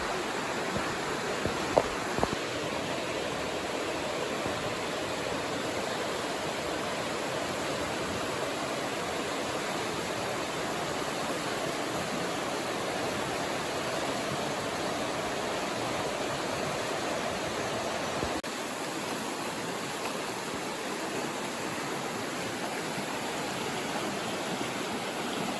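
The River Wye flows below a viaduct in the Peak District, a steady, broadband rush of moving water that stays constant and fairly loud throughout, with no voices.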